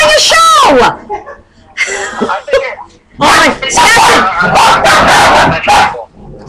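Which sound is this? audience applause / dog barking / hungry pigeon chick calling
dog barking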